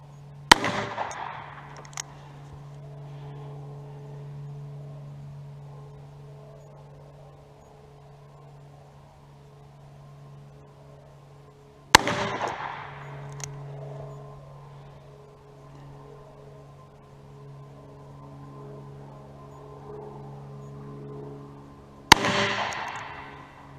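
Three loud, sharp gunshots from a Taurus .44 Magnum revolver fired at an outdoor range while sighting in, spaced roughly ten seconds apart, each followed by a brief ringing decay over a steady low hum.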